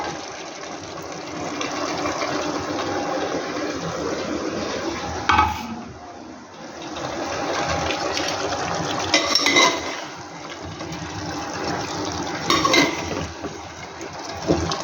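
Pre-fried chicken pieces stirred and sautéed in a pan with spices, a continuous close sizzle broken by scraping stirs and occasional clatters of the utensil against the pan.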